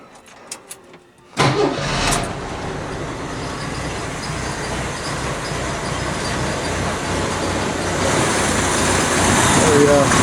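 A cold 1983 Jeep engine with a Weber carburetor starts after a few faint clicks. It catches with a loud burst and then runs at a steady, close, rumbling idle that grows slightly louder as it is given some gas.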